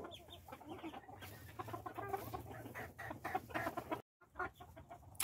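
Chickens cluck steadily inside a coop, a dense overlapping stream of hen calls from a backyard flock with a biting rooster among them, close and continuous, broken by a brief gap of silence near the end.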